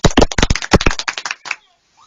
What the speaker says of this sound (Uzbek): Mana bu olqish sizga.